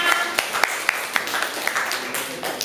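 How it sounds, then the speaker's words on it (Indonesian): A classroom audience claps for a student group during an academic supervision session, a short burst of scattered hand claps under a murmur of room noise. "Terima kasih aplaus juga untuk kelompok 6"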